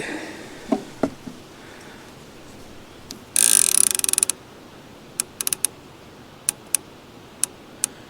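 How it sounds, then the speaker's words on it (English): A fishing reel's clicker ratchets in a short, dense burst of rapid clicks, followed by scattered sharp single ticks, while a rig is baited with fresh skipjack and shad for catfish at a muddy hole. "So do you leave him in gear with the clicker on?"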